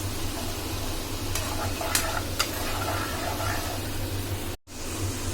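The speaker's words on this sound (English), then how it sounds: "Low flame में आप इसे कुक करेंगे until all the sugar melts." Sugar slowly melting and cooking in a pan over a low flame, giving a soft steady sizzle and bubbling with a few faint clicks and a brief dropout near the end.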